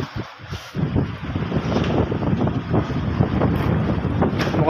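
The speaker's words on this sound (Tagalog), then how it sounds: "Lakas ng hangin, oh." Strong wind roars steadily across the microphone on a small fishing boat at sea in stormy, rainy weather, a continuous rough rushing that fills the whole stretch with no talk.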